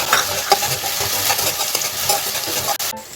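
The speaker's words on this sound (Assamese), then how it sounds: "আমাৰ পিয়াজখিনি অলপ ভজা হৈ গৈছে, এতিয়া আমি মছলাখিনি ইয়াতে দি দিম" Onions frying in a pan as ginger, garlic and chili are stirred in, a steady close sizzle with scraping stir strokes throughout and a brief clatter near the end.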